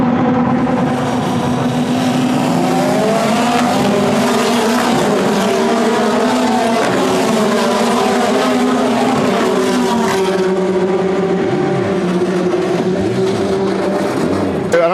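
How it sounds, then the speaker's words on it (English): Single-seater race cars at a racing event roar past on track, a loud continuous engine drone with rising and falling pitch sweeps as cars pass, close and sustained throughout. "he's racing those big single seaters"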